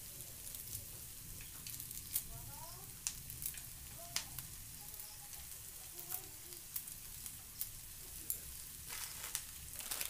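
Onion and Maggi noodles sizzling in a frying pan, a steady soft crackle with scattered sharp pops and faint stirring scrapes, fairly quiet and close.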